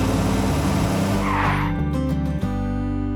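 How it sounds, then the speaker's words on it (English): A toy car in a Peppa Pig cartoon rolls along in a garden, a loud continuous motor-like drone with a brief skidding squeal, filling the scene without speech. "they spotted a giant toy car rolling toward them"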